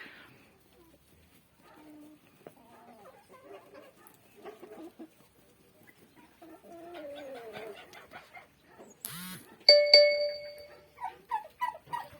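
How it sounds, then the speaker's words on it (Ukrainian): Geese call from a farmyard: scattered honks and gabbling, growing louder toward the end with sharp, harmonic squawks from nearby birds. "Трошечки вам гусей своїх покажу"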